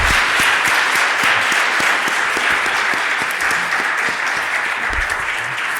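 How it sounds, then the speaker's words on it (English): An audience at a Paterson School District superintendent search community forum breaks into a round of applause, dense, loud clapping that holds steady for several seconds with sharp individual claps standing out. "a round of applause"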